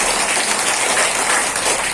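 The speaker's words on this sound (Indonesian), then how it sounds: "Tepuk tangan dulu dong" Dense, continuous clapping from an audience at a health talk, a loud close wash of hands with no individual claps standing out.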